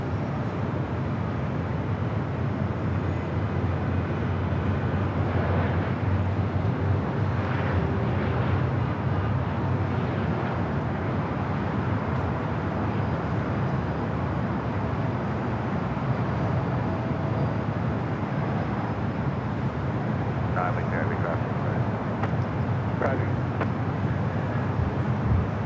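Airplane on approach to the LAX runway during a possible go-around, a continuous loud broadband jet roar with steady low rumble throughout, distant and without voices.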